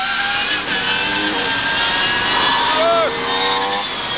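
A 1993/94 DTM Mercedes C-Class race car engine roars loud and close while driving, holding a steady high rev with a brief dip and shifts in pitch, as a man exclaims over it.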